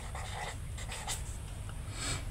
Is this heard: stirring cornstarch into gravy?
no